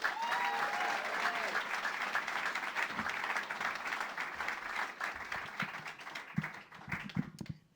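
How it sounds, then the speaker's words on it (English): Applause for a presenter at a PechaKucha Night in Burlington, Vermont, sustained and full, then thinning and fading near the end as a few last claps and voices remain. "So if you give an applause for Robin."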